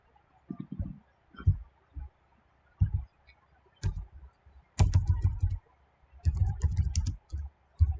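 Someone types on a computer keyboard in uneven bursts of heavy, close clacking keystrokes, with short pauses between flurries in an otherwise quiet room.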